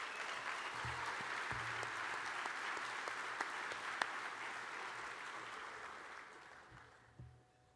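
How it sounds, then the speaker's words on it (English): A gala audience claps steadily in a broad, even wash of applause that holds for several seconds before fading out near the end, fairly soft and distant. "Please give them a round of applause."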